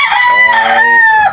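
A rooster crows once in a loud, close, drawn-out cock-a-doodle-doo that rises and falls over about a second, heard alone.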